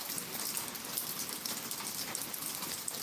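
Heavy rain pours down steadily in a dense, even hiss, close and continuous with no voices over it.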